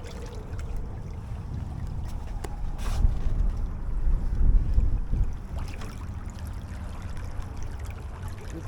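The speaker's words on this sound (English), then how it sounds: "I can hear the water increasing in decibels as it's rippling off the transom" Steady wash of water rippling off a sailboat's transom, swelling louder in the middle before easing back, with wind rumble throughout.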